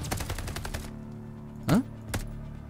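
Call of Duty Vanguard gunfire: a rapid burst of automatic shots up front, then a sharp louder blast and one more isolated shot, loud and close with game sound effects.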